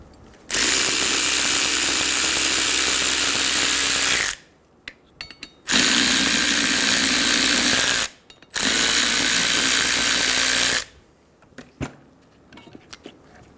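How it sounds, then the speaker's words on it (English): A power tool with a 7mm hex head spins out brake caliper bolts on a 2000-2007 Ford Focus, three loud sustained whirring bursts of about four, two and a half and two and a half seconds, separated by brief quiet gaps with small clicks. "Use a 7mm hex head to remove the bolts."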